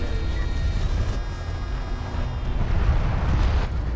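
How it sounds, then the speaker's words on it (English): Artillery barrages rumble through a Homeworld: Deserts of Kharak match, with a continuous low roar of distant impacts and blasts swelling toward the end, steady and dense with no clear pauses. "you can see the artillery is doing some really good damage here"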